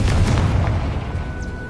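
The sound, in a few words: Confringo and Bombarda spell explosions in video game Hogwarts Legacy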